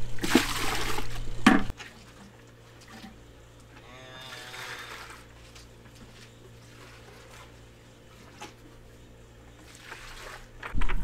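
Hot water gushes loudly into calf milk replacer for a couple of seconds, then softer liquid sloshing and mixing follow in a quiet farm setting, with a brief loud splash again at the end.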